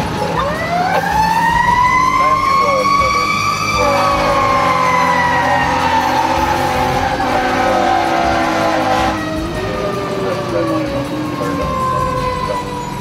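A loud fire engine siren wails continuously as the engine leaves the station, its pitch sweeping up and down, with the rumble of a heavy truck underneath.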